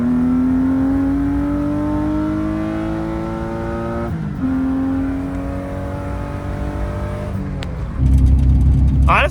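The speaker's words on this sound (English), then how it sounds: "It's so funny driving a car with this power, but with so much clutch." A BMW E36 with its turbo removed accelerates through the gears from inside the car. Engine pitch climbs steadily, drops at a shift near four seconds, climbs again, then a louder rush near the end.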